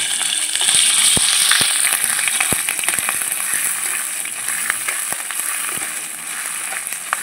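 Ginger and garlic paste frying in oil for a Bengali fish curry, a loud hissing sizzle with frequent sharp crackles and spatula scrapes that eases slightly toward the end.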